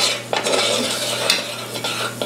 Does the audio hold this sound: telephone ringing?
no